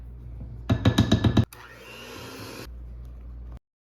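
A hand-held electric mixer runs through peanut butter cheesecake batter in a bowl: a rough, pulsing burst of beater knocks, then a steadier whirring drone for about two seconds before it cuts off.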